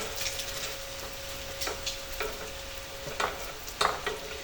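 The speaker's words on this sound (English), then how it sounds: "it's literally just scraping out a pan" Bacon grease scraped from a pan through a fine mesh sieve, a low sizzling hiss with a handful of sharp metallic scrape clicks, near and fairly quiet, no talking.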